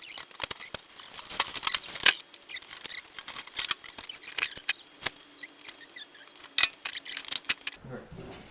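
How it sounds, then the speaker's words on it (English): A blade slices and tears open a cardboard shipping box holding a Harbor Freight MIG cart, making quick scratchy snips and crackles in irregular bursts, close and fairly quiet, ending with a soft thump. "So I'm going to cut the thing open here."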